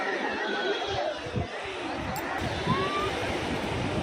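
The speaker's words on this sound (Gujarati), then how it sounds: "આ છે મિત્રો નાગવા બીચ. આ છે મિત્રો દરિયો" Sea waves at Nagoa beach in Diu under cloudy, rainy weather, a steady broad wash of surf filling the whole stretch, with faint chatter of people nearby.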